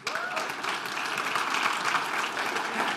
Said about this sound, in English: join me with a round of applause for Wanjira Matai as she comes up